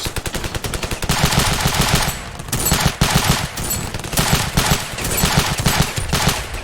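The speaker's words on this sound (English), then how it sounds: "I'm getting shot at from somewhere. It's crazy how many bullets start flying." Video game gunfire in Ravenfield, with loud, rapid automatic bursts coming in repeated volleys, close and continuous with short pauses between strings of shots.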